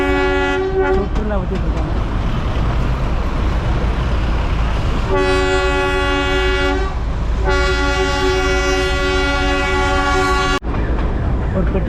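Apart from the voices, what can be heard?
Darjeeling toy train running past track-side shops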